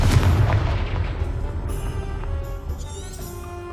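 The Confringo spell exploding in the Hogwarts Legacy video game: a heavy, booming blast up front that rolls into a decaying rumble, with bright magical chimes and shimmering tones ringing out as it fades.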